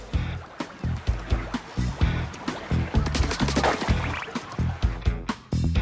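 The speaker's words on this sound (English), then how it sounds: "If you run out, just dive into it for a quick refill" Rhythmic splashy liquid plunges repeat steadily in Splatoon Raiders as a character dives into ink to refill its tank, a series of close wet whooshes and drips with no talking.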